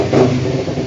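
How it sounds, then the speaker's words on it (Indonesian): A 2015 Kawasaki Ninja fitted with a racing exhaust revs once, loud and close. The engine note swells and then holds steady in a short burst. "Karena knalpot racing coba kita nyalain."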